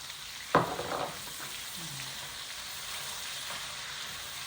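Onions, carrots, garlic and celery sauté in bacon fat with a soft, even sizzle, opening with a sharp clatter as they hit the pan, then settling into a quiet, steady hiss.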